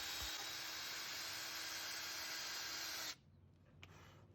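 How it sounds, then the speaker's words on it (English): A drill bores a pilot hole in wood with a steady, hissing whine held for about three seconds before cutting off abruptly, followed by faint handling noise. "I'm going to drill a pilot hole with a drill bit that's slightly smaller than my screw"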